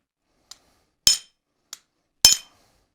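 A hammer drives a chisel into hot iron on a cutting plate while forging an 18th-century ratchet trammel hook: two light taps alternate with two heavy, ringing metallic strikes, close and alone.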